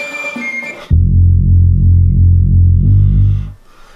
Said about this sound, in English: you get that hollow, really fat bass line